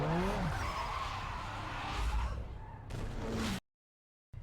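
A Nissan Sentra 2.5L I4 launches off the line in a Need For Speed Underground 2 quarter-mile drag race, tires squealing over a loud, steady engine roar that cuts off abruptly before a brief return.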